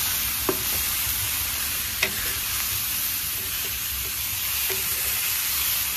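Chicken koftas frying in a pan give a steady, close sizzle throughout, with a few soft clinks of a spoon or spatula. No one speaks.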